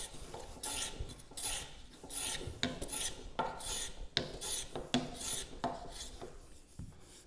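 A hand plane with a 50 degree blade cutting wood, giving repeated rasping strokes in a steady back-and-forth rhythm, close and fairly quiet, with no talk.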